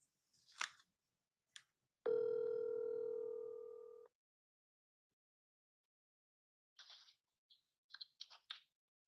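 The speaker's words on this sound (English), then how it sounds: "Calling Danielle Walker, mobile." A phone call placed over a phone line gives a single steady electronic tone lasting about two seconds, set between scattered faint clicks and taps in otherwise quiet surroundings.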